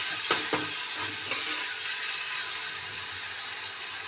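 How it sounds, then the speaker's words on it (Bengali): Onions fry in a pan with a little sugar for an egg curry, hissing in a steady, close sizzle. A few stirring clinks come early on, and no one speaks. "চলো পেঁয়াজটা ভাজা হয়ে যাক"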